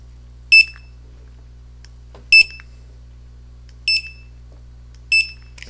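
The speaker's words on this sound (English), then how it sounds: "when you pull the trigger you will hear the beep." A Motorola DS3407 handheld scanner reading laser-marked direct part marks on glass gives four short, bright electronic beeps spaced about one and a half seconds apart over a faint steady hum, no talking.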